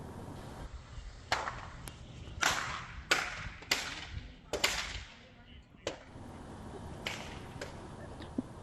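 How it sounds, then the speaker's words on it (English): A house fire gives off sharp popping cracks repeatedly at uneven intervals, loud snaps like gunshots over a low background rumble, with some voices faintly underneath. "We actually have some video where you can hear that popping noise."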